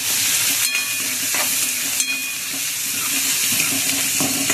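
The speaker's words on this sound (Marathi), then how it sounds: "आणि आपला कांदा इथे फ्राय होत आहे" Onion frying in a pan after garlic, for a spiced tempered rice dish: a steady close sizzle and hiss throughout, with a few soft stirring scrapes and clicks.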